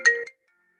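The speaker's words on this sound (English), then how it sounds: "I should have turned off my phone." A mobile phone ringtone goes off during a conference talk, one short bright electronic chime burst that cuts off abruptly into silence.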